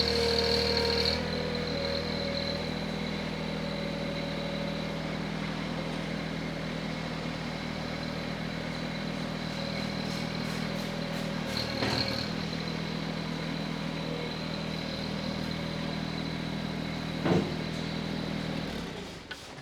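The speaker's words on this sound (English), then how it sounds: "I'm going to use the loader a little bit to put a little down pressure on it to lift the tires up off the ground just a hair" A Mahindra 1100 series tractor engine runs steadily at a constant drone while its loader presses down to raise the tires slightly off the ground, close and continuous, with a couple of faint clunks and no voices.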